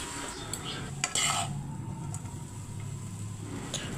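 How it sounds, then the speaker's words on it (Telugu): A metal fork scrapes and clinks against a pan as boiled Maggi noodles are stirred, with a soft sizzle underneath and a few sharper taps. "ఫోర్క్తో 10 minutes దాకా కలపాలండి, అప్పుడే మసాలాలన్నీ బాగా కలుస్తాయి"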